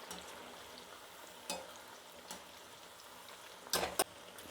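Field beans frying in hot oil for a crunchy snack mixture give a faint, steady sizzle with a few sharper crackling bursts, louder near the end, and no talking.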